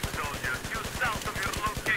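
Rapid automatic gunfire from the shooter game Battlefield 4, a fast steady rattle of shots with whistling tones above, loud and continuous for a couple of seconds.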